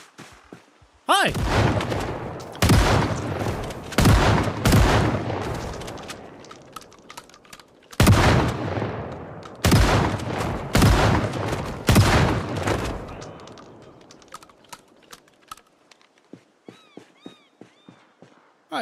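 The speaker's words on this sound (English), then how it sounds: "I hear gunshots. That sounds like fun." Video game gunfire in a fantasy role-playing world: loud volleys of shots in two dense bursts separated by a short pause, then fading to quieter scattered sounds.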